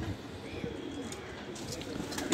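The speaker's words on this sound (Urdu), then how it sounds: "یہ قصوری کبوتر ہے" Kasuri pigeons coo softly in a quiet setting, a few faint, low throaty calls over light background noise.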